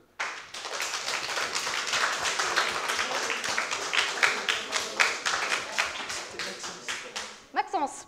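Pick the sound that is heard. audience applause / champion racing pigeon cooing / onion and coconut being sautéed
audience applause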